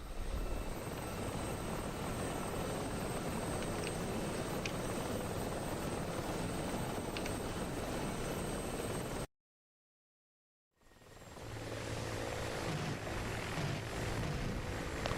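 Two Mi-24 attack helicopters fly in a holiday-themed Santa vs Grinch PvP video game, a loud, steady rotor and engine roar that cuts out briefly to silence before returning just as strongly.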